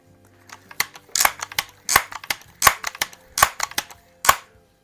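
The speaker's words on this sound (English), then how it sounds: "I'm going to do one more 5-pump shot with the pellets" Crosman 760 air rifle firing pellets on five pumps, heard as a string of sharp, dry cracks and clicks with quick pumping and handling noises between them, close and fairly loud, with no talking.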